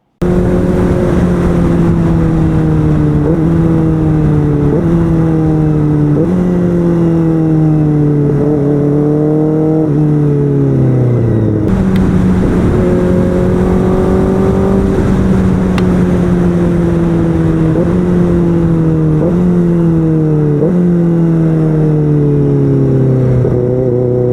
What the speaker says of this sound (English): What really stands out with the Kaufman exhaust is the sound of downshifts.